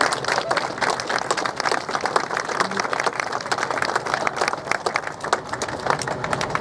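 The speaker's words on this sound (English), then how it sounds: "They all deserve a round of your applause" A crowd at a heritage railway event at Barrow Hill claps steadily for the organisers, a dense, sustained round of applause close by, with no talking over it.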